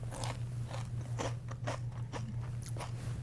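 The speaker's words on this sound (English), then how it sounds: "Listen to the crunch." Crisp, brittle crunches as someone bites and chews a hard honey treat, several irregular snaps over a low steady hum, with no talking.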